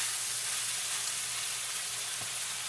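Black pepper beef frying in a pan, a steady close sizzle holding at an even level throughout with no talking.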